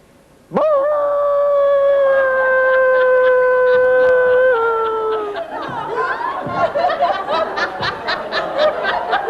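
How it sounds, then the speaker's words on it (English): A person lets out a sustained, loud howl for joy, a steady held tone that drops slightly before breaking into laughter and chuckling. "I'm going to ask you to do what we call a howl for joy."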